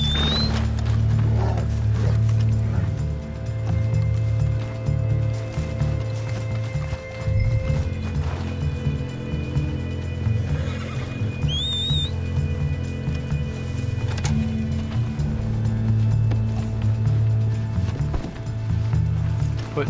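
Horse hooves clip-clop in a steady rhythm in the Red Dead Redemption 2 Online video game, close and fairly loud, with a brief whinny and scattered game sounds mixed in.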